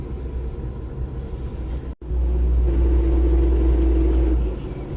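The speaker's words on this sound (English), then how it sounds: "it just doesn't sound great because the gears are kind of whiny and stuff on this old car" An old, high-mileage car drives with a steady low rumble and a faint whine from worn gears, broken by a brief dropout before the engine drone returns louder.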